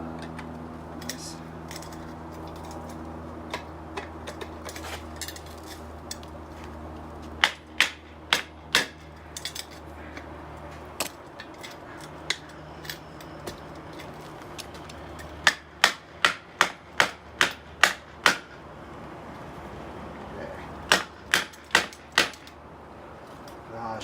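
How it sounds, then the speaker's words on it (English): A hammer strikes an aluminum end cap on the exhaust baffle of an Indian Scout motorcycle, sharp metallic taps landing in short bursts of several blows with quiet pauses between. "Hammer directly on it."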